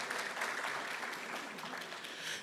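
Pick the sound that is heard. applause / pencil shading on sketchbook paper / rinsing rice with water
applause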